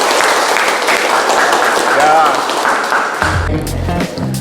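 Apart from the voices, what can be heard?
audience applause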